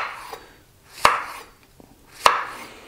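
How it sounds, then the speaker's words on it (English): A knife chops courgette into 1 cm blocks on a board, giving two sharp, close, isolated chops about a second apart with a faint tap between them. "when you cut your courgette"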